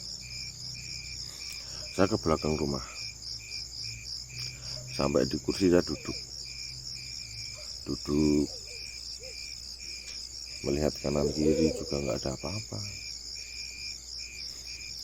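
Steady high-pitched cricket chirping at night behind a house fills the background throughout while someone talks in short phrases over it.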